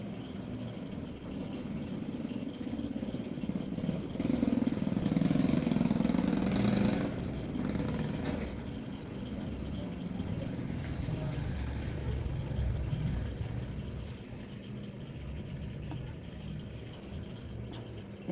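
A sewing machine runs steadily while stitching the neckline of a kurti, a continuous mechanical hum with a brief louder burst partway through, heard alone without talk.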